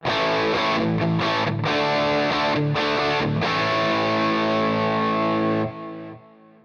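A distorted lead electric guitar tone from the Fractal Doc 5F8 preset on the bridge pickup plays chopped, sustained notes, loud and saturated, then rings out into a fading decay.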